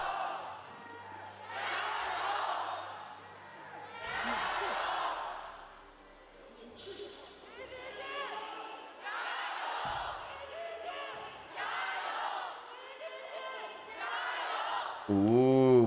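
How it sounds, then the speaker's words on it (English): An esports arena crowd at an LPL match between JDG and IG yells and chants in rhythmic swelling waves, with loud roars rising and falling every couple of seconds and a commentator's voice cutting in at the end. "the crowds are going to be given a moment to yell"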